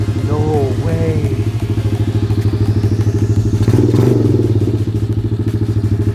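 A cheap dirt bike engine idles loudly and steadily up close after a kick start, with a rapid, buzzy pulsing putter and a brief rise in revs midway, and people talking excitedly over it.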